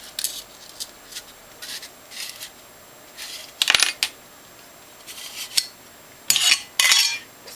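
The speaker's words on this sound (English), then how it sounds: "The front shroud can also be removed." Removing the metal front shroud from a lightsaber hilt produces a series of light metallic scrapes and clinks, some brief and some drawn out, with a sharper rattle partway through and two louder scrapes near the end, close and unaccompanied.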